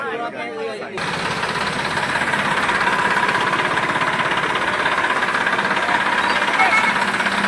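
A tractor engine idles at night at a roadside stop, a steady rumbling drone that starts after a brief moment and holds constant throughout, with voices talking over it.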